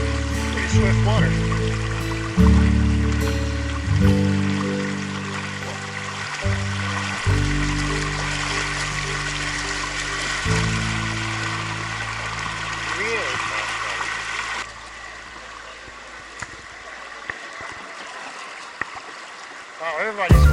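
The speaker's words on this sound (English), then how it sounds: "Pretty swift water." Swift water on the Buffalo River rushes and gurgles around a canoe, a continuous close wash with bumps and knocks from the boat, while people talk over it throughout.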